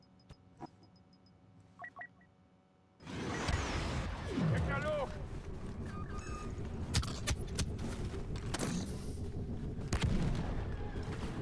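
Rapid blaster fire and heavy impacts in a Kylo Ren video game battle, with bursts of shots, beeps and booming blasts over a dense, noisy backdrop, under talk.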